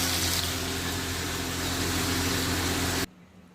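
Water poured into a pan of taro cooking with fried hilsa fish heads and green chillies gives a steady, close rushing flow for about three seconds, then cuts off abruptly into near silence.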